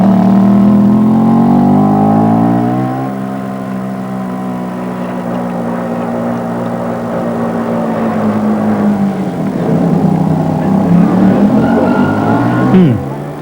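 A student-built car from a 1985 build-a-car contest runs its final test drive, its engine droning with a steady tone that sags lower midway, then climbs as it revs up near the end.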